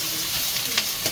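Onions sizzling and frying in a carbon steel pan while being caramelised, a steady close hiss with faint stirring, no talk.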